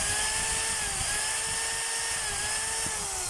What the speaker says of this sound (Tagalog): Bali old model po ito na rotary hammer mga kabay.